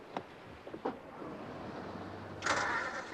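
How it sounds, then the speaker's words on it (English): An engine is started aboard a boat, with a few brief clanks and clicks first, then a low rumble and a louder burst of cranking near the end, heard alone without speech. "I start the engine quick"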